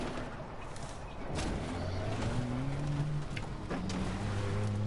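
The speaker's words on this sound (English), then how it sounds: "The truck's got a nice sound to the engine though" A low truck engine drone in the video game Far Cry 4, with shifting harmonic tones that rise and fall as it revs, steady and moderately loud, with a few faint knocks over it.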